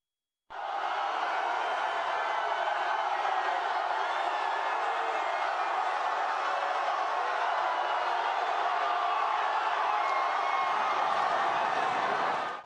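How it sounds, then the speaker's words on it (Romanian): A dense crowd of football fans roars and cheers continuously for France's newly crowned 2018 World Cup champions parading along the Champs-Élysées in Paris, a steady, loud wash of voices from start to finish. "unde au fost aclamați de mulțime."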